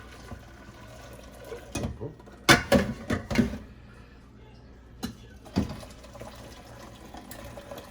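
Water poured into a heavy cooking pot of stew in a series of short, uneven splashing bursts, close by, with quiet stretches in between.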